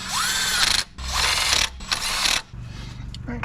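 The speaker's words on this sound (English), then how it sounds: "then we'll go back and tighten them down a little bit more with the hand ratchet" A hand ratchet clicks in three long runs, tightening the spark plugs on a Honda Accord during a tune-up. Each run is close and fairly loud, with brief pauses between them.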